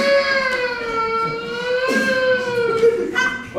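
A voice imitates a wailing police siren at an improv theater show, a loud close tonal howl sweeping slowly down and back up with several short breaks.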